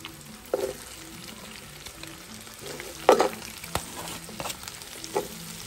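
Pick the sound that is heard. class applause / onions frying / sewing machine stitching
onions frying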